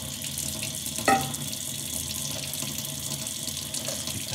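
Lukewarm tap water pours steadily from a faucet into a bowl, a continuous close splashing hiss with one brief clunk near the start and no talking.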